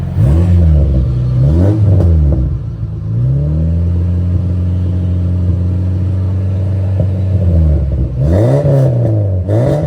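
A car engine revs hard in repeated bursts, rising and falling, then holds a steady high drone before revving again, loud and close with no talk; the car had been stalling and ran once a plug on its electronic throttle body was pulled.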